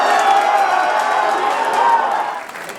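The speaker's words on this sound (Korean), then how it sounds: "박수와 환호가 터져나왔고" Crowd at a People Power Party candidate's election camp bursting into sustained applause and cheering as exit poll results arrive, a dense, steady roar that tapers off near the end.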